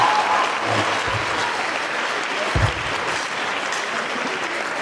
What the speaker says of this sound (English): Let us all give him a very standing round of applause.